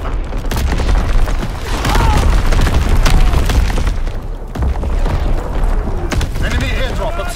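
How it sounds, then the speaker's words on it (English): Heavy enemy artillery blasts in a video game, repeated deep booms and rumbling explosions close by, with a steady barrage of detonations and crackling debris filling the whole stretch. "Incoming enemy artillery."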